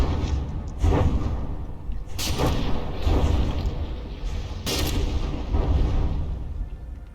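Heavy naval guns firing from a battleship in the From the Depths game, loud booming blasts at about 1, 2.2 and 4.7 seconds over a constant rumble of ongoing combat.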